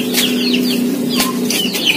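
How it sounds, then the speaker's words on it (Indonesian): Chicks cheeping, a quick run of high, thin peeps repeating close by over a low steady hum, in a workshop where a motorcycle is being repainted. "Anak ayam."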